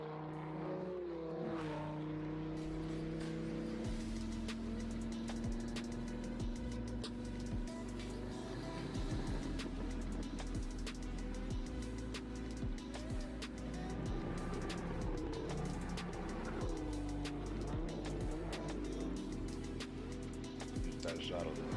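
A V10 engine pulls hard under acceleration as a steady, loud drone that rises and shifts in pitch throughout, with people talking over it.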